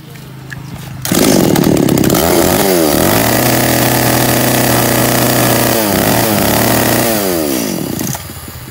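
A Tanaka two-stroke chainsaw engine starts up and runs loud and close, its pitch rising and falling with throttle blips between steady high revs before cutting back near the end.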